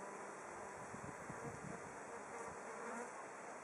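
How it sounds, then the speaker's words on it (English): A newly emerged queen tree bee (Bombus hypnorum) on phacelia flowers gives a soft, continuous buzz that fades in and out over light wind and outdoor background noise. "So this is a queen, a newly emerged queen tree bee."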